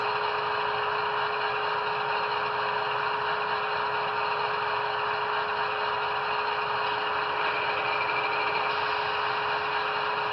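A BLI AC6000 SP model locomotive with a Paragon3 sound decoder idles in place, giving a steady, unchanging engine drone with a constant hum and no talking.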